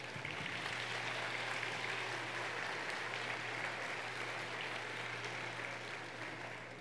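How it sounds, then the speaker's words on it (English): An audience at a U.S. Astronaut Hall of Fame induction gala claps for an ROTC colour guard and an anthem singer. The applause is even and dense, stays loud throughout, and eases off only slightly at the end. A steady low hum runs underneath. "How about another round of applause for them?"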